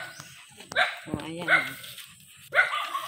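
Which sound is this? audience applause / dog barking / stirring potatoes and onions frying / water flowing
dog barking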